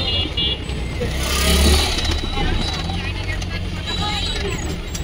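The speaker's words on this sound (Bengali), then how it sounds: "সবুজ ড্রাইভিং করতেছে হাজীগঞ্জ ব্যস্ততম বাজার দিয়ে।" A car drives through the busy Hajiganj market during a driving lesson, its engine humming steadily beneath close-up talk and a murmur of crowd and traffic.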